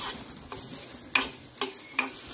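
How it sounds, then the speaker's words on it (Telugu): Garlic frying in a pan with chilli powder, stirred with a few sharp spoon scrapes over a soft, steady sizzle, close and fairly quiet. "ఇక ఇప్పుడు కలపాలి. వెల్లుల్లిపాయలు ఇట్లా కలిపితే మంచి కమ్మటి ఫ్లేవర్ వస్తుంది."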